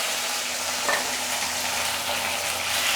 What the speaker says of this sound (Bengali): তো আমি একটু লবণ আর হলুদ দিয়ে আলুগুলো আর সয়াবিনগুলো ভেজে নেব।